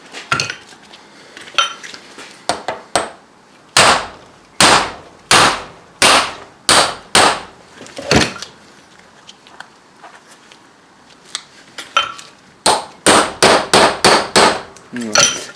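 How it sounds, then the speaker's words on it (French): Hammer striking the flat part of a car CV joint head, sharp metallic clangs in clusters of quick blows separated by short pauses, loud and close with ringing decays. "Comme ça je vais pouvoir frapper sur cette partie plate ici."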